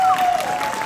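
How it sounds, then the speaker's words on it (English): A panel audience claps for Penny, a brief burst of mixed clapping with a sustained tone running through it, lasting under a second. "can we give a round of applause for Penny"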